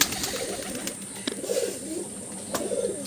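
Andhra pigeons from Andhra Pradesh coo repeatedly in their loft, low rolling calls in several bursts, fairly close and clear against a constant background hiss.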